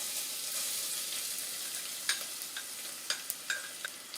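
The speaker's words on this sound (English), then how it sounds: "Now that the oil's heated up, adding in some onions." Sliced onions dropped into hot olive oil in a pan on a stove at medium heat for a cheese and meat lasagna make a continuous soft sizzling hiss, nearby and moderate, with a few sharp spattering pops toward the end.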